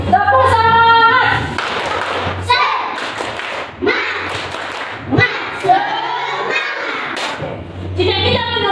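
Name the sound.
class doing the rhythmic 'tepuk semangat' clapping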